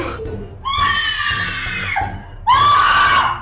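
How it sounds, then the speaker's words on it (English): A girl shrieks after being struck by a styrofoam dart, two long piercing screams close and loud, the second louder, separated by a brief gasp. "she was screaming like somebody got murdered"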